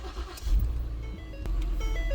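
A Ford EcoBoost engine, recently repaired after smoking and catalytic converter faults, cranks and catches, settling into a low steady idle close by.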